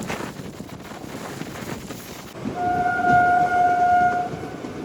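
Rolling rail noise and wind buffet a moving MEMU as the Narsapur Express crosses, ending in a sustained tonal horn-like hum over a louder rush.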